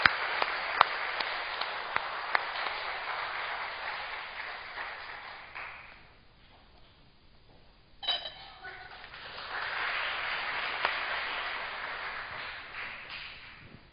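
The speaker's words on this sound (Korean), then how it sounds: "여러분 뜨겁게 한번 박수로 우리 집사님 권사님 맞이하겠습니다." A Sunday worship congregation applauds to welcome a deacon and a church elder to the front: steady clapping dies into a quiet lull, then a sharp sound is followed by a second swell of applause.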